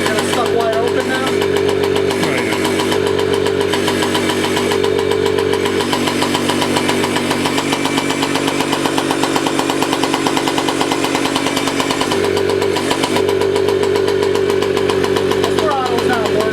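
A scooter engine with its throttle stuck wide open roars continuously at high revs, loud, close and buzzing with a rough, knocking edge, holding steady throughout with slight shifts in pitch.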